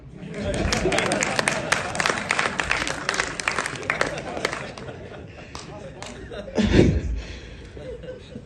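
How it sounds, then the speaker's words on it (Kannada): An audience at a film launch event applauds in a dense burst of clapping for several seconds with some laughter. It then thins out as speech takes over near the end. "ಚಪ್ಪಾಳೆ ಹೊಡೆಯೋಣ"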